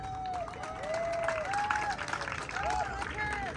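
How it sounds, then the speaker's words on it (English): Rally crowd at an immigrant rights march applauding and cheering as the next speaker is introduced, a steady wash of clapping with a whistling voice rising and falling over it and some crowd chatter. "Let's give a round of applause to Mr."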